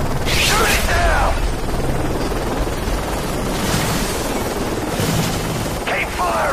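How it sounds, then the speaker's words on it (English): An enemy helicopter closes in during a Call of Duty Modern Warfare 3 battle, its rotor roar a dense, continuous rumble mixed with gunfire and bursts of voice chatter. "Enemy chopper closing on your position."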